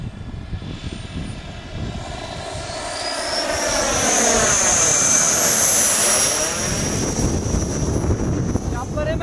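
An Embraer Tucano turboprop aircraft roars past loud and close, its engine tone swelling with a sweeping pitch shift as it passes by, then holding a steady drone to the end.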